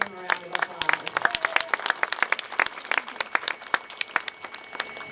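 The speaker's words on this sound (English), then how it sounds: "Yes, please give him a round of applause." Audience applause at a city ribbon-cutting and dedication event in Coeur d'Alene: many hands clapping in a dense, crackling patter with sharp individual claps standing out, steady through the whole stretch.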